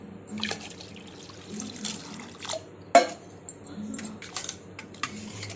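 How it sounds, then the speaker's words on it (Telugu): Water pours and trickles into a pot of pressure-cooked moong dal in a soft, steady stream, with a brief clatter near the middle. "ఇందులో వాటర్ పోసుకోవాలి"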